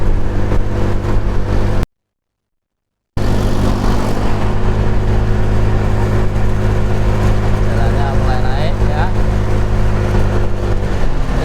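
A Honda Vario 125 scooter carrying a single rider climbs a steep hill, its engine giving a loud, steady droning hum close up, interrupted by a brief gap of silence.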